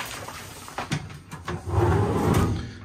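Heavy-duty drawers in a 1993 Stewart & Stevenson 4x4 expedition truck camper slide and knock shut, giving several close wooden thumps and clacks followed by a longer rumbling slide with no talking.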